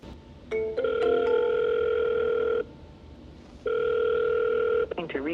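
Telephone dial tones from a power dialer working through sales leads on a cold call: two long steady tones with a pause between, quick dialing beeps at the start and a short burst of sound at the end.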